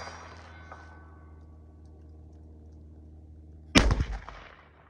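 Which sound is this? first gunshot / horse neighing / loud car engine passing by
first gunshot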